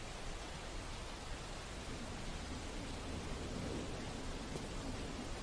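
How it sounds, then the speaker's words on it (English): Rain patters against glass in the survival video game Dead Matter, a steady, soft, even hiss of droplets with no voices. "I love the rain effect on the glass here."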